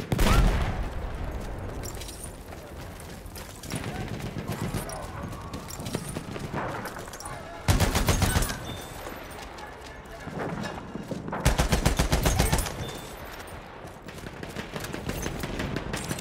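Enemy machine gun fire in the video game Battlefield 1 comes as several loud, rapid bursts of shots. Battle noise and voices run between the bursts.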